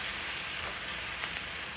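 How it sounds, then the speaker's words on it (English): Chopped garlic goes into a hot pan for chicken spaghetti and is stirred in, producing a loud, dense, steady sizzle with a faint scrape or two. "we're gonna add about a teaspoon of chopped garlic and stir that in."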